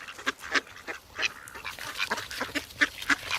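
Ducks squabble while being fed, with close, loud, irregular quacks and honking calls bursting out in quick succession.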